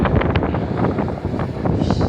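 Strong wind blowing across a bay buffets the microphone in a loud, continuous roar with gusty rumbling throughout.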